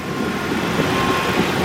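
Engine of a 2004 Ford Thunderbird running at a steady idle, a low even hum heard close up in the engine bay with no talking.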